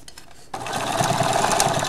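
Sewing machine stitching binding onto a face mask, starting after a brief quiet moment into a steady fast whirring run, close and loud with no talking.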